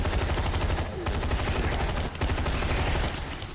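Rapid automatic gunfire in a zombie and robot shooter game, loud sustained bursts of shots with two brief pauses between strings of fire.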